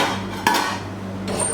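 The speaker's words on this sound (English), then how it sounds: "we're gonna cover this with a lid and continue cooking for another 5 minutes" A metal lid clatters once onto a cooking pot holding root vegetables and stock, a short close clank followed by a fainter clink a moment later, over a steady low kitchen hum.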